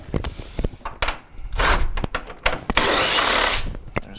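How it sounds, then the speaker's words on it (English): Power tool driving screws out of a Jenn-Air refrigerator freezer panel, heard as several short, close bursts of whirring with a sustained run near the end and small clicks between them. "So we're going to take those screws out"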